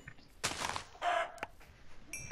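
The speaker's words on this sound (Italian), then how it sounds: "Un pollo! Due polli!" Chickens cluck in the Minecraft video game, several short, fairly loud bursts of clucking in quick succession, with no talk over them.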